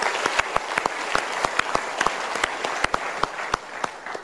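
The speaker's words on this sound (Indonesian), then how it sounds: "kita berikan tepuk tangan untuk orang-orang yang berjasa" Scattered applause from a seated audience at a motivational seminar, individual claps spaced out and sparse rather than a dense roar, steady at moderate volume throughout.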